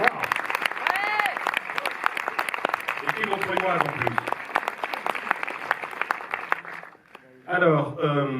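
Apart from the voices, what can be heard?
cinema audience applause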